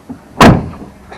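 A single solid door slam of a VW ABT e-Transporter 6.1 electric van, sharp and close, with a brief low thud trailing off into quiet.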